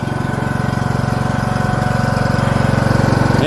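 A John Deere X120 riding lawn mower engine runs steadily up close, a loud, even, pulsing drone that rises slightly toward the end, with no talking.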